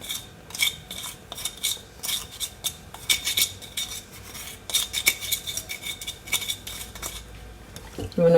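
Chicken and broccoli stirred with seasoning in a pan, giving close, busy metallic scrapes and clinks of a utensil against the pan in an uneven rhythm, with only faint talk.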